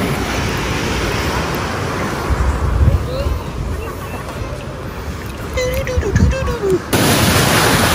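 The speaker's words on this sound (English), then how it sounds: "This is a beautiful ocean." Ocean surf washes steadily onto a Florida beach, a broad continuous roar with gusts of wind buffeting the microphone, while people talk and laugh now and then.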